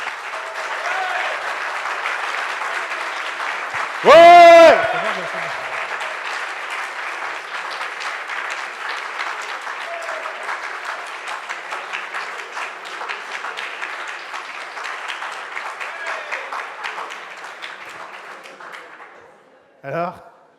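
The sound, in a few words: audience applause and cheering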